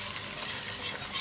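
Beaten eggs fry in hot oil in a pan, giving a steady, close sizzle with a faint stirring scrape, no voices.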